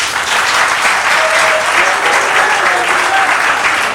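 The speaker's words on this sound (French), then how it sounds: "montrez l'assistance sous vos applaudissements" Wedding guests at an official civil marriage ceremony break into steady, dense applause, a continuous crackle of many hands clapping that holds for the whole stretch with no voices standing out.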